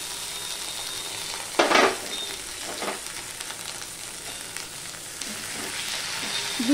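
Ginger paste and a chopped tomato fry in a pan with a steady, close sizzle, broken by a brief loud stirring scrape early on and a few softer stirs.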